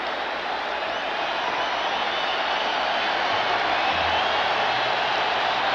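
A packed baseball stadium crowd roars during a 1986 American League Championship Series game between the Red Sox and Angels, a steady, loud wash of distant voices and cheering that swells slightly and holds without a break.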